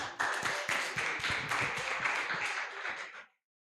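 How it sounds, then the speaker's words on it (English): Audience applause for a speaker being introduced at a youth and revolution event, dense clapping running steadily for about three seconds before cutting off into silence. "A round of applause."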